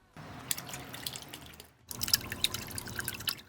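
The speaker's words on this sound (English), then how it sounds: "fill it up with water and fire it up." Water splashes and trickles in a small DIY outdoor pump fountain filled over rocks, starting after a brief quiet, pausing for a moment, then resuming with close, lively dripping.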